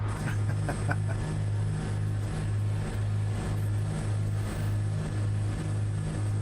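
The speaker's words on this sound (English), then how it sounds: "it's actually your engine that I'm hearing" A twin-engine Cessna C337H Skymaster II in Microsoft Flight Simulator 2024 drones steadily, a loud continuous propeller-engine hum with a regular pulsing throb and no talk.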